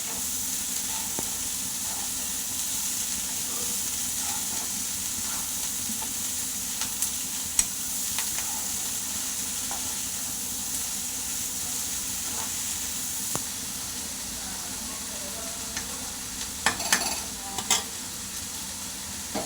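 Chopped onions sizzle and fry in a hot pan with steady hiss, broken by occasional scraping stirs and spoon clicks, no talking.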